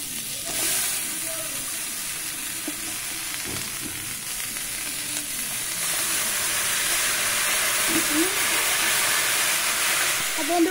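Chopped mixed vegetables hit a hot pan with fried crab, setting off a steady bright sizzle and hiss that swells as more goes in, with occasional stirring clatter nearby.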